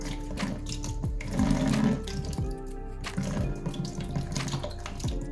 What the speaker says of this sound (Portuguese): você vai pegar o seu pote de vidro e vai derramar água quente em cima do rótulo